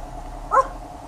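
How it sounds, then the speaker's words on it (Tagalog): A single short dog bark or yip rings out briefly at mid-distance over a quiet indoor background. "Ang aso ko si Charlie."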